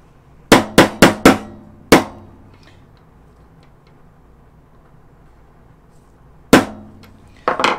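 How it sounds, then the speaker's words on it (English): Hammer strikes on a roll pin being driven into a CZ Bren 2 charging handle: a quick burst of four sharp metallic taps, a single blow, a pause, then two more, close and loud over a quiet room. "let's drive this first roll pin all the way through."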